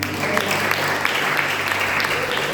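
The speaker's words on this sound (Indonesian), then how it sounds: "Saya tadi bilang beri tepuk tangan kepada Tuhan." Congregation applause at a church worship service keeps up as a thick, even roar of many hands clapping, with a low sustained tone beneath and faint voices mixed in.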